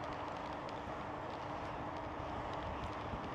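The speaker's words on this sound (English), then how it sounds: "You can hear the highway there to the right and the train track." Steady distant traffic hum from a highway beside a train track, a continuous low rumbling wash with no train passing and no talking.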